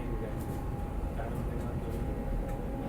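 Inside a Vande Bharat chair car coach on the New Delhi–Varanasi run, a steady rail rumble rolls along beneath a thin, constant electric motor whine, loud and continuous.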